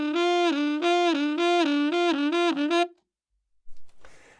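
A saxophone holds a G with a faint harmonic bubbling beneath it, pulsing in a steady wobble of about eight beats for nearly three seconds, close and loud, then silence and a brief rustle.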